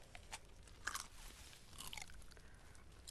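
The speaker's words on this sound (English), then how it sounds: "He munching on the blueberry." Someone munching on blueberries, soft close chewing and biting with a couple of brief crunchy bites, quiet against a faint background.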